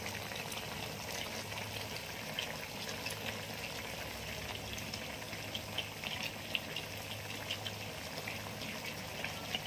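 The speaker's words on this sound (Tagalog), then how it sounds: "Ayan na po, kumukulo na po." Liquid boils in a pot with steady bubbling and popping, a soft continuous simmer heard nearby for several seconds without talk.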